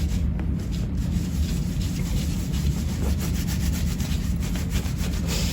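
A fiberglass long arm cast being rubbed smooth by hand, making a continuous close, dense rubbing and brushing sound that holds even throughout, with no talking.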